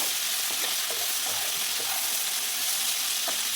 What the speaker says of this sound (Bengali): দিয়ে দিলাম একটু লবণ, দিয়ে এটাকে একটু ভাজবো ভালোভাবে